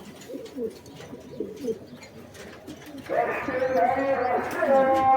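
Homing pigeons coo softly in an Egyptian pigeon loft, several low burbling calls in a row near the listener, while someone talks over them and then a louder voice sings in.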